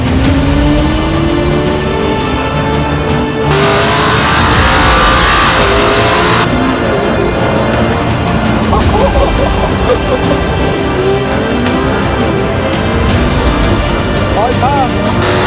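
A McLaren P1 supercar drives along a road, its engine loud and close as it accelerates and revs, with pitch sweeping up through gear changes and constant road and wind roar. A voice talks over parts of it.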